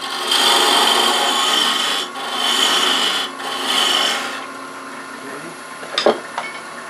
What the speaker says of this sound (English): Come back another half apart so the parting tool doesn't get too much